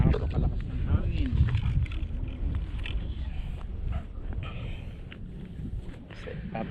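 Strong gusts buffet the microphone in low, rumbling bursts, with water sloshing around a small boat and faint voices underneath, out tarpon fishing.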